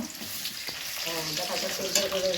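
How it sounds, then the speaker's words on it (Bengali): Vegetables frying in a pan for a home-cooked lunch, a steady soft sizzle running throughout with faint scraping of stirring and some background household noise. "এখন পাঁচ তরকারি যেগুলো সবজি সেগুলো আলাদা আলাদা করে ভেজে নিচ্ছে"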